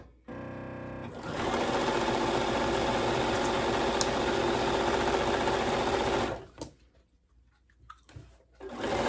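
Sewing machine stitching the smaller strips of a quilt block together, a loud steady continuous run of about five seconds that stops abruptly, followed by quieter handling noises, with no talking.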